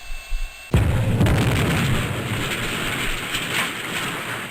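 A loud explosion in the Sierra submarine simulator Fast Attack bursts in abruptly after a quiet hum, then a sustained rumbling roar with crackling debris rolls on at high level until the end.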